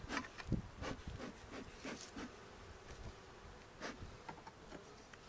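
Honeybees buzzing around an open hive during a spring inspection in search of the queen, a steady low drone with individual bees whirring close past in brief louder swells, no voices.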